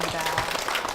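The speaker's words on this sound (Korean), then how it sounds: "우리 이정순 권사님께 우리 축복의 박수 부탁드립니다." Church congregation claps in blessing, a short burst of dense, fairly close applause filling the room.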